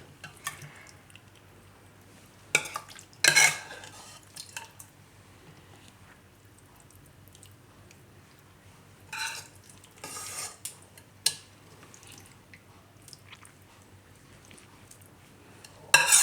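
Scattered clinks and scrapes of a utensil stirring dry potato curry in a pan, a few louder bursts among long quiet stretches, with no talking.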